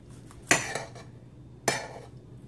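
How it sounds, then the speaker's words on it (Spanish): Utensils are cutting a slow-cooker roast chicken in a pot, giving two sharp metallic clinks about a second apart, with faint scraping after each over quiet kitchen background. "vamos a partir el pollo para que vean cómo quedó"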